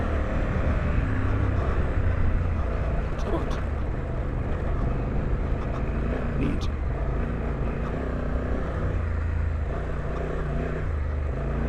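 2024 Honda Africa Twin motorcycle riding in automatic mode, a steady loud engine and wind roar that holds its gear throughout, heard from the rider's position with no clear shifts.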